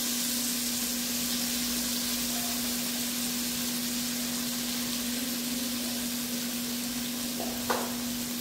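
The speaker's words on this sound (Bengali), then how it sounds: "নুন আর হলুদ দিয়ে খানিকক্ষণ ভাজা ভাজা করে নিই" Boiled potatoes fry with turmeric and salt in hot oil, giving a steady, even sizzle that runs unbroken throughout, with a brief clink of utensils near the end.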